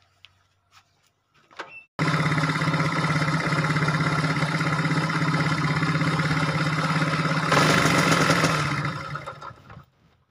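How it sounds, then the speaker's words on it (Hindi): A few mechanical clunks of kicks, then a motorcycle with a starting problem catches and idles steadily, revs up briefly near the end, and cuts off. "सबसे पहले हम बाइक को स्टार्ट करते हैं देखते हैं कि ये बाइक पहले किक पर स्टार्ट हो रहा है"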